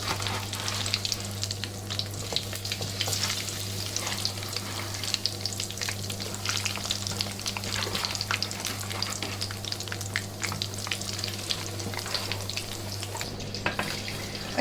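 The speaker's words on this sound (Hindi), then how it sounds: "अब इसमें मैं ये फिश फिंगर डाल दूंगी।" Fish fingers frying in hot oil in a home kitchen, giving a continuous dense crackling sizzle with a steady low hum beneath, close and unbroken throughout.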